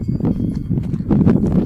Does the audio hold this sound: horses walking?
yes